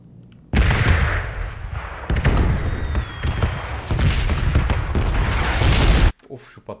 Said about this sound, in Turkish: Of, şu patlama sesi bir bitsin.